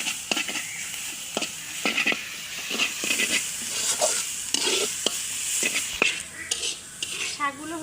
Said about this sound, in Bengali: শাকটা কিন্তু একটু ভাজা ভাজা করে নেব,